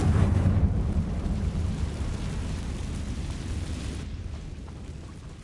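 A Confringo blasting spell explodes in Hogwarts Legacy, a loud, heavy rumbling blast that decays slowly over several seconds.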